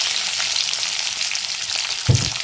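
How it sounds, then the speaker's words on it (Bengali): Steady, close sizzling of potatoes frying in white cooking oil in a wok, a continuous crackling hiss with a brief low knock near the end. "খুব ভালো করে আলুটাকে ভেজে নিয়েছি"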